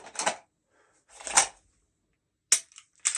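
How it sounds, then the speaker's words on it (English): Pistol drawn from a Safariland level 2 holster: sharp clicking and rustling bursts of plastic and metal, one around the first half-second, another a second later, then two quick snaps near the end, close and alone with silence between. "So if I need to draw the gun again"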